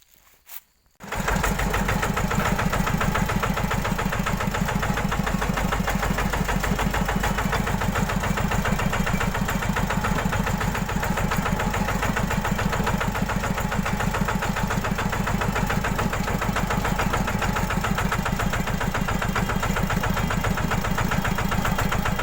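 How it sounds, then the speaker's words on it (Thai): A farm tractor's engine starts after a brief quiet moment and then runs steadily with a loud, close, even chugging rumble that continues without pause. "ผมจะเอารถไถไปแก้ครับ"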